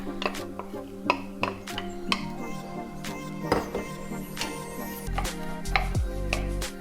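Cut potatoes land in a pan with a string of sharp clinks and taps, followed by a low sizzle near the end, against a steady kitchen background.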